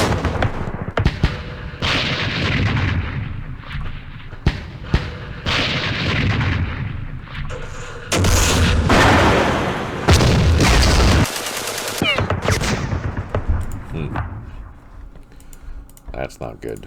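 Mortar blasts and rattling gunfire from the Vietnam war game Campaign Series Vietnam, set in the Battle of Hue, loud and dense in repeated bursts with keyboard clicks and someone talking over it.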